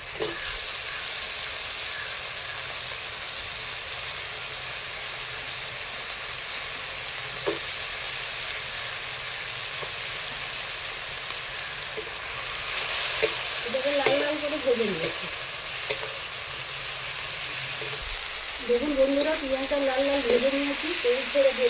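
Chopped onion fries in a pan for prawn kofta curry, a continuous close sizzle with occasional stirring scrapes, while a voice speaks briefly over it in two short stretches.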